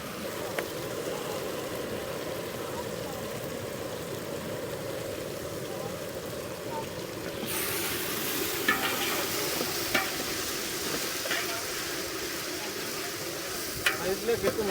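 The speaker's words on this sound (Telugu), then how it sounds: "బగారా రైస్లో టమాటా వేస్తున్నాం." Masala paste and tomato fry in a pot for Rayalaseema-style bagara rice, a steady sizzle with stirring that brightens halfway through, plus a few sharp clinks of a spoon against the vessel.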